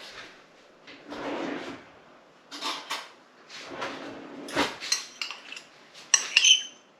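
A drawer slides open and a spoon is picked out, with several metallic cutlery clinks and rattles in short bursts, close by in a quiet kitchen, with no talk.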